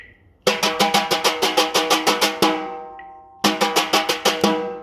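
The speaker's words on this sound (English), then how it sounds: "I call it the skip a rock stroke" A wire brush plays triplets on a drum head in a lateral, skipping sweep: two bursts of rapid, evenly spaced strokes, each ringing with a sustained, resonant tone, separated by a short pause.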